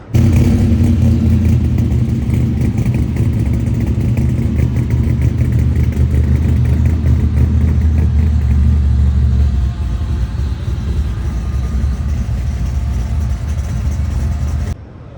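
A loud, rumbling bubble-top Chevrolet Impala engine with side exhaust runs close by at SEMA 2023, a deep throaty exhaust roar that holds steady with slight revving throughout.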